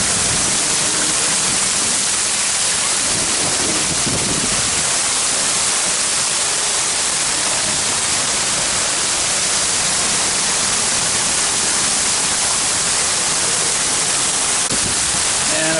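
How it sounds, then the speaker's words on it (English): Waterfalls on the pool deck of the Norwegian Getaway cruise ship give off a loud, steady hiss of falling water that fills the whole stretch with no break. "The waterfalls here."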